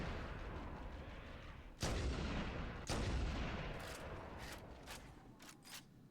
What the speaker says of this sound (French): Hop, une petite grenade.